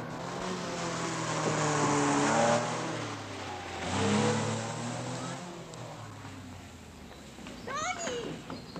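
A 1950s car pulls away near St. Wolfgang, its engine rising and falling as it revs and accelerates, fairly loud and close, with brief voices calling out near the end.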